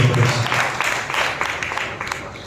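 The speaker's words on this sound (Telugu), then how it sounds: "చప్పట్లు కొట్టి మన దేవుడు" A church congregation claps their hands together in a steady, fairly loud round of applause that carries through the whole stretch.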